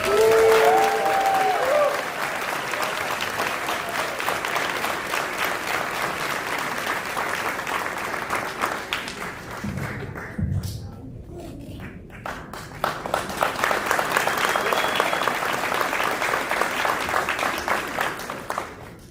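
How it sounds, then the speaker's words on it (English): A graduation audience applauds a scholarship recipient, long dense clapping that dips briefly in the middle with a low thump, then swells back to full strength, with faint voices mixed in. "Please give another round of applause."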